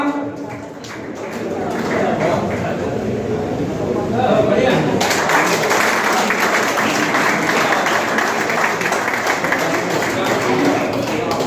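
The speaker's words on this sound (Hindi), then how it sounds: "जोरदार तालियां" Loud clapping fills a hall at a celebration for a newly elected transport committee chairman in Ulhasnagar, steady and continuous, rising midway, with voices talking over it.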